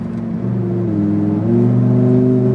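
Lamborghini STO accelerating hard on a race track, its engine note climbing steadily in a loud, close, continuous roar with a brief dip as the throttle lifts and comes back on.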